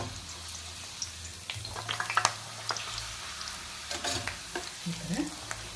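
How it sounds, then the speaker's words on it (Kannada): Papad fries in hot oil in a pan, giving a bright crackling sizzle with bursts of bubbling and the clink of a utensil lifting pieces out. "ಈಗ ಹಪ್ಪಳ ಹಾಕಿ ಒಂದೊಂದೇ ಕರ್ಕೊಂಬಿಡೋಣ"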